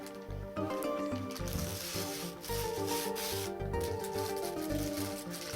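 Sterile tubing packaging is opened in a hospital neonatal unit with a steady, close crinkling and rubbing of plastic wrap that lasts the whole time, fairly quiet and without talking.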